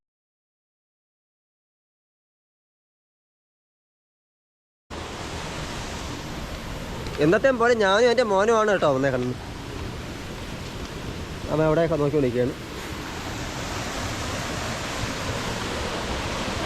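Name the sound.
Oliyaruk (Erappu) waterfall, Kollam, flowing water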